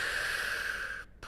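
A single long exhale during a Pilates mat exercise, steady and breathy for about a second at close range, then cutting off abruptly.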